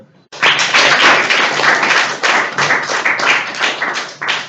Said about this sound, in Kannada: ಮರ್ಕೊಂಡು ಹೊಡಿರಿ ಒಂದು ಚಪ್ಪಾಳೆ